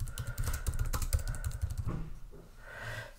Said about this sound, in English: I can type in the question.